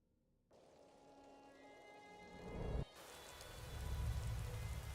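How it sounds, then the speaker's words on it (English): Rain falls steadily in the Skyrim video game, a soft hiss of drops that starts abruptly, then swells and grows heavier and louder toward the end, with no voices. "It's raining."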